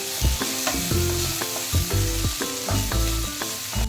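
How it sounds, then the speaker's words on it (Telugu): Peas, beans and carrot frying in a pan for Yippee noodles, with a steady loud sizzle and repeated stirring scrapes and knocks of a spatula running throughout. "బీన్స్, క్యారెట్ ఒకసారి మొత్తాన్ని ఫ్రై చేసేసుకుందాం"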